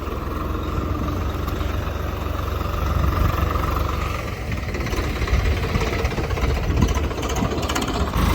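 A Swaraj 855 tractor engine working a field, puddling with a cultivator and leveller, a steady low diesel rumble with a rough knocking texture that swells slightly in the middle, close by, no talk.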